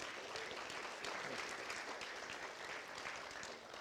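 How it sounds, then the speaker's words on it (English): At an evening benefit gala, an audience gives a round of applause. It is a dense, even patter of many hands clapping at once, fairly faint and sustained from start to finish, with no speech. "Can we give them a round of applause?"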